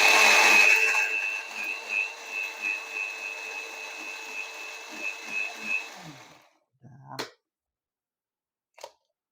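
An electric blender grinds chili for a traditional pounded cassava-leaf dish, a steady dense whir with pulsing surges that runs for about six seconds, then stops, followed by a couple of brief clatters.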